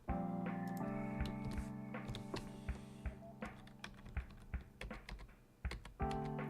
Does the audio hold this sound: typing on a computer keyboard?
yes